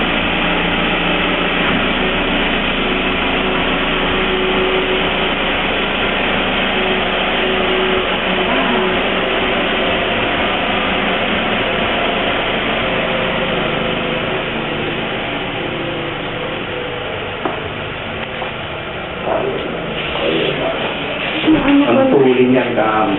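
A 2.4-litre Toyota Camry engine drones steadily throughout at close range, with a low rumble and road noise, and a few louder thumps near the end.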